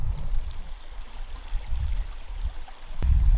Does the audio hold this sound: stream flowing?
yes